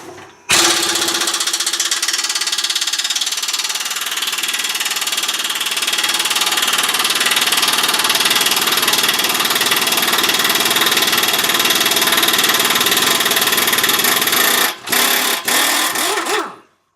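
A half-inch drive impact wrench with a 15mm socket loosens the front muffler nuts under a 2006 Ram turbo diesel, a loud continuous rattling hammer sustained for about fourteen seconds before brief stutters and a stop.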